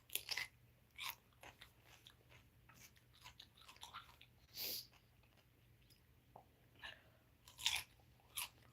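Someone chews a rice cracker close up, with crisp crunchy bites and quieter mouth sounds recurring irregularly over a faint steady hum, with no talking.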